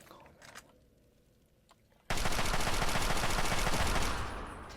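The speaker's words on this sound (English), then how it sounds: "Sounds like a turret." Rapid automatic turret gunfire in Fallout 3 opens abruptly after a quiet stretch of scattered soft clicks. It becomes a loud, sustained burst lasting about two seconds, then eases slightly toward the end.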